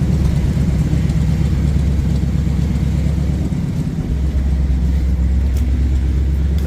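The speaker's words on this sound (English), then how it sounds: "Engine sounds great though." A Jeep J10 engine idles close by with a steady low rumble and an even mechanical beat, running continuously without revving.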